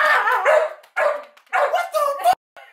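A dog gives a quick series of about five sharp, close barks and yips, some whiny, in an indoor room.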